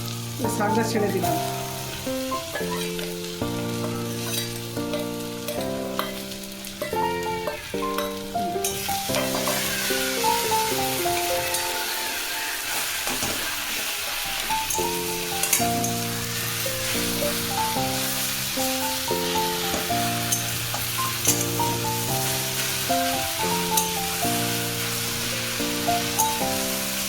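Greens (saag) fry in a hot pan with a steady sizzle, stirred now and then with clinks and scrapes against the metal. Music plays beneath throughout.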